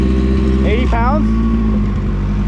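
A built race car engine idles steadily, a low continuous rumble with even, rough pulsing throughout, while a voice speaks briefly over it.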